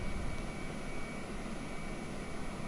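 A320 jet engines run up to takeoff power in a full-size cockpit simulator: a steady, dense broadband roar that holds evenly throughout, with no voices.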